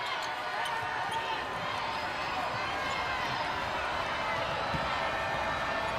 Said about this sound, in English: Crowd starting to get loud again.